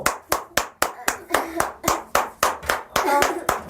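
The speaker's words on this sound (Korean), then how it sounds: "박수 치라. 통과됐다." An audience claps steadily and rhythmically, a dozen or so crisp claps in even succession, loud and close with no talking.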